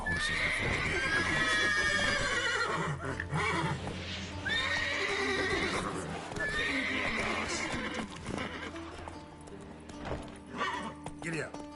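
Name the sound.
horses neighing in video game The Witcher 3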